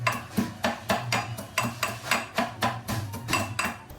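Coriander seeds are roughly crushed in a steady series of about a dozen sharp, close pounding knocks at an even rhythm, with no talking.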